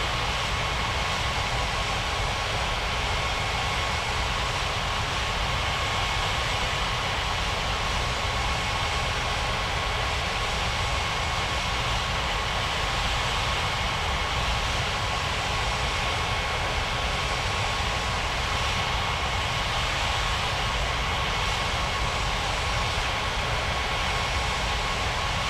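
An Emirates Boeing 777-300ER taxiing at Las Palmas airport, its engines a constant loud broadband roar with a steady whine, unbroken throughout and heard alone without talk.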